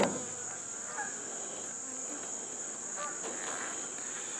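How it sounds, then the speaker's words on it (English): Honey bees hum steadily as they cluster in a small ball on nuke hive frames, a continuous close buzz with a few faint handling knocks underneath. "We've got a little ball of bees here"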